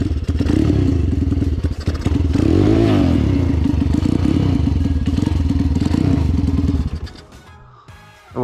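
A motorcycle engine roars and clatters loudly for several seconds after being kick-started, then sputters and dies as it stalls near the end.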